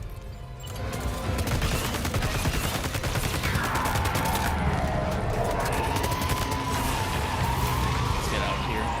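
Assault rifle fire in Death Stranding 2 rattles in a dense, continuous stream of rapid shots, loud and close, mixed with other game noise and a voice talking over it.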